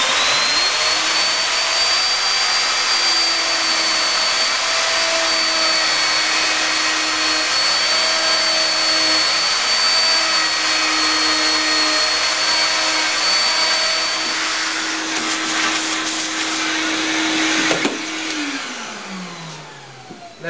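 A handheld router with a guide bushing cuts a mortise into wood for a fireplace mantel. It gives a loud, steady high whine whose pitch dips and rises as it loads and unloads in the cut, then winds down as the motor is switched off.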